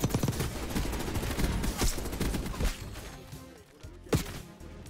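Gunfire rings out in the Warzone shooter game: rapid bursts and single sharp shots crack close and loud, with a few heavy impacts standing out over a busy background of game noise.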